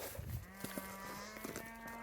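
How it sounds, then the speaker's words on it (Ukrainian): Cattle on a farm moo during a buckwheat harvest, with a low sustained bellow running alone through most of the stretch, plus a couple of brief grunts near the start and a steady hum underneath. "Корови щось мукають."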